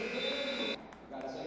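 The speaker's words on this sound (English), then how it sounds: "Just a couple of seconds left, and Rosen hits a three at the buzzer." Arena buzzer sounding loudly and steadily for about three quarters of a second as a three-pointer drops at the end of the first half of a high school basketball game, New Trier versus St Joseph, then cutting off into crowd noise.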